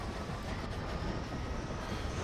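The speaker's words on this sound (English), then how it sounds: "this is our train." A train in the video game Workers and Resources rumbles along continuously, a broad low roar of wheels and engine holding steady and fairly faint, with no speech.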